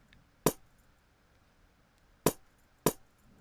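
An unprocessed, dry echo percussion sample in an Afrobeat music production: three sharp, bright clinking hits, the first alone and the last two closer together, with near silence between them.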